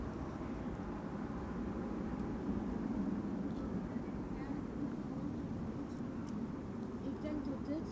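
A KLM Boeing 777 airliner arriving at Schiphol's runway 18R, heard as a steady, broad engine roar that holds at an even, fairly loud level throughout.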